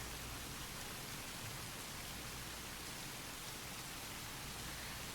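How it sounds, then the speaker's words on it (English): Soft rain falling in Tsukihime Remake, a steady, even hiss of gentle patter that holds unbroken for the whole stretch with no voices. "I listened to the soft patter of the rain."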